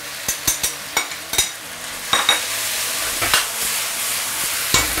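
Yellow chives and pork shreds are stir-fried in a wok with ginger, garlic, pickled chili and scallion. A steady sizzle runs throughout, broken by a quick series of sharp spatula clacks and scrapes against the metal, close and loud.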